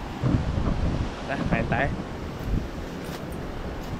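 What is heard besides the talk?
strong wind at the beach camp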